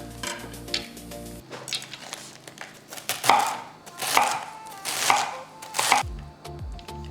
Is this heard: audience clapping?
no